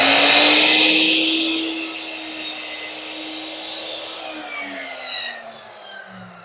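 A miter saw tilted to a 10-degree bevel rips through a wooden fence picket, a loud close cut whose motor pitch sags under load and then winds down over several seconds.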